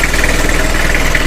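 An engine idles steadily on its engine bed, a continuous loud mechanical drone with a pulsing low-end vibration running throughout, no voices.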